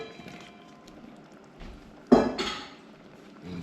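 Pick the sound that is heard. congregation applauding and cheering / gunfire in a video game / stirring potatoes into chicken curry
stirring potatoes into chicken curry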